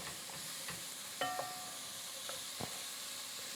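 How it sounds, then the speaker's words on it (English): Food in a pot is stirred over a steady, quiet sizzle and hiss, with a few faint scrapes and light clinks of the spoon. "Give it a stir."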